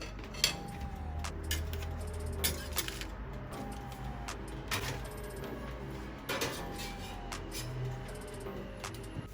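A metal künefe tray and oven parts clatter and clink in a home kitchen, sharp metallic knocks and scrapes repeating every second or two, fairly quiet against a low background hum.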